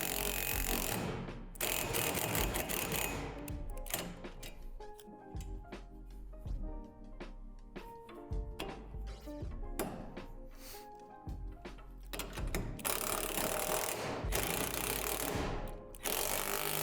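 A ratchet loosens the assembly hardware on a Lifetime portable basketball system, clicking in rapid, steady runs of pawl ticks with short pauses between strokes, close and continuous.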